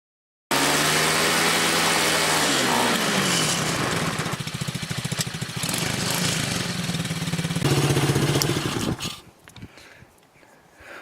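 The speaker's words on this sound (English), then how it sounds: "Had the China quad running and driving." A small Chinese mini ATV quad engine runs steadily and loud up close, its pitch shifting as it revs, then cuts out and fades near the end.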